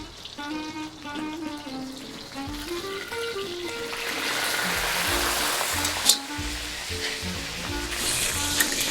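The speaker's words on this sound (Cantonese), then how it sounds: "每一邊咧大約半煎炸到佢40秒至1分鐘，咁就 OK 啦" Lemongrass pork chops pan-frying in hot oil give a steady, close sizzle that swells partway through and then holds, heard beneath background music.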